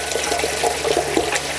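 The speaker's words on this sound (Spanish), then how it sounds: "Vamos a lavar muy bien con abundante agua para retirar todo nuestro tamo." Dried corn for chacales is washed under plenty of running water, a close, steady splashing and gurgling with small irregular sloshes as the kernels are rinsed free of husk bits.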